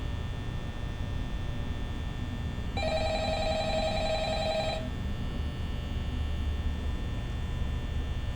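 In Five Nights at Freddy's, a telephone rings once, a clear electronic trill of about two seconds, over a steady low hum and room noise. No voices are heard.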